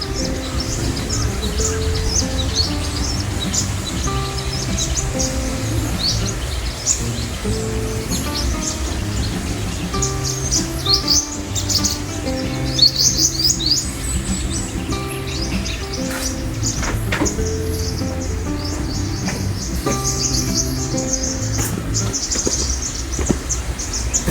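Birds chirp and tweet repeatedly against a busy, noisy outdoor background.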